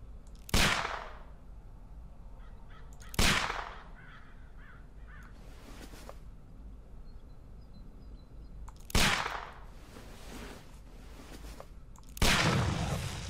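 Four sharp pistol gunshots fired at a package in the Sherlock Holmes: Crimes and Punishments game, loud single cracks with echoing tails, spaced irregularly a few seconds apart with quiet background between.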